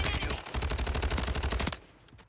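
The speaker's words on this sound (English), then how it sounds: "this gun shoots so straight, but from long, long range, it don't kill quick" Rapid burst of STB 556 assault rifle fire in the shooter game Warzone, loud and close, a fast steady string of shots lasting under two seconds before cutting off to quiet ambience.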